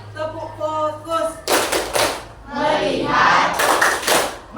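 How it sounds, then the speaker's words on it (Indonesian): A classroom group clapping together in a rhythmic chant pattern, sharp bursts of many hands in quick sequences after a voice speaks, close and loud. "Dan kita tepuk lagi."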